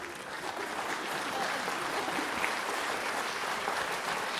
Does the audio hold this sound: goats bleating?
no